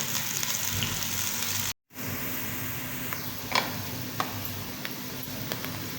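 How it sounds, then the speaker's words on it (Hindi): Onions sizzle steadily in hot oil in a pan for Pakistani-style aloo gobi, a close, even crackle with a brief dropout and a few light clicks. "प्याज़ों को हल्का सुनहरा कर लेंगे।"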